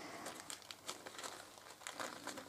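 Paper napkin being torn into small pieces by hand for decoupage, a run of close, soft crinkling rips repeating in uneven bursts with no talk.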